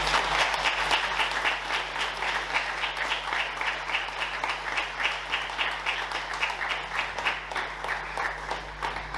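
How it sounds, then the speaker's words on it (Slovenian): An audience at an indoor award ceremony for a children's book festival applauds, giving steady, dense, sustained clapping that carries evenly throughout without fading. "ostale pa prosim za aplavz"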